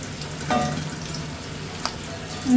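A fish head is stirred into mustard paste frying in a pan, giving a soft, steady sizzle with a few scrapes of stirring, close and fairly quiet with no talking.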